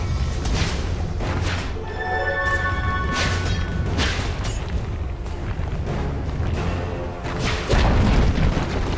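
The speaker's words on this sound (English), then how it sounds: "Dire's top tower has fallen." Heavy booming crashes and explosive impacts from a Dota 2 match as a tower is destroyed, loud and dense, mixed with game effects and a swelling burst near the end.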